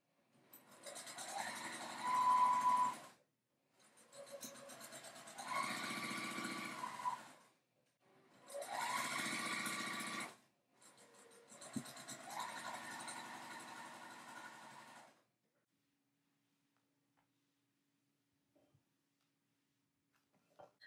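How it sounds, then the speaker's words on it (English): A sewing machine stitches flying geese quilt blocks, its motor whirring in four separate runs of a few seconds each, with short pauses between them, before falling silent. "I'm going to sew these together so that I can show you how nicely those points come together"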